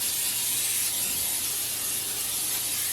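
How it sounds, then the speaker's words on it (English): A steady, continuous hiss of non-stick cooking spray coating a baking dish, close up for a few seconds without pause. "Taking non-stick cooking spray"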